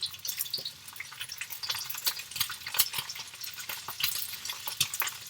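Radish, dried shrimp and tofu fry in a wok while being stirred and moved around, giving a busy, close sizzle with scraping, clattering hits and wet crackles.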